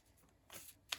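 Tarot cards are shuffled by hand in a couple of quick, faint riffling bursts, the last one a sharper snap, heard up close in a quiet room.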